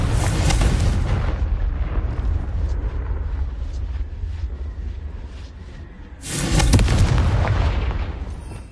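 Confringo fire-blast spells in the Hogwarts Legacy video game: a loud roaring explosion at the start fades into rumble, then a second heavy blast erupts near the end.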